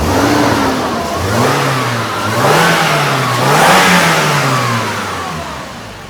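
A Toyota Prado's engine is revved repeatedly, the pitch climbing and falling in several smooth surges from a steady idle, close and loud with no talk.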